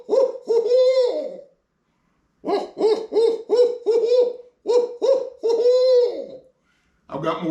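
A turkey hunter imitates an owl's hoot with his mouth: a series of loud, close, rhythmic hoots in three bursts, with short and drawn-out hoot notes, the last cut off at the end.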